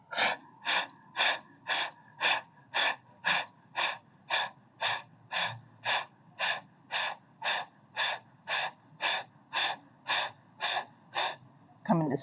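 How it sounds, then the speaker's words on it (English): Rapid breath-of-fire breathing during a yoga flow, sharp nasal exhalations pulsing in a steady rhythm of about two per second, close and loud, continuing evenly with no talk over it. "Come back into breath of fire."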